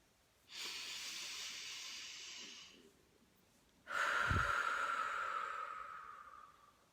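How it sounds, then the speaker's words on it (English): Two long, deep meditative breaths, a slow airy inhale then a stronger exhale after a pause, close and alone with no talk. "Deep breath."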